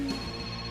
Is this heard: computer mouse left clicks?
no